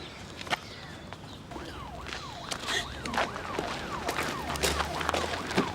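Ambulance siren wailing in a repeating rising and falling pattern, moderately distant and faint, over street ambience with a few footsteps and thuds.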